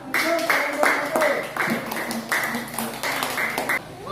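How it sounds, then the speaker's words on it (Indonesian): Students in a classroom clap in short rhythmic bursts, several quick rounds in a patterned beat, close and loud, with a voice speaking between and over the claps. "Oke, tepuk tangan."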